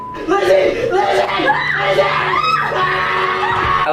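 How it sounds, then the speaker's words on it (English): A woman screams loudly in played-back footage, her shrill cries rising and falling over several seconds amid overlapping voices and other talk. "his girlfriend starts screaming right away"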